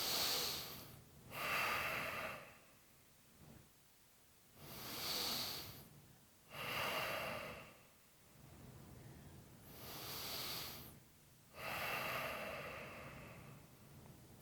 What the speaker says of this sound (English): let's start by taking 3 deep cleansing breaths right into your navel